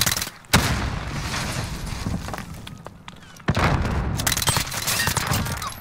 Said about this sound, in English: Your dude's shooting me on left side.